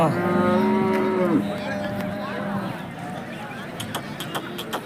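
Cattle lowing at the KG Temple weekly cattle market in Gubbi taluk, Tumkur district, several moos close by and loud over a busy crowd of people talking.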